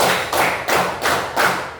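Five loud, evenly spaced hand claps in a row in a classroom, each a broad slap that fades before the next, no voices.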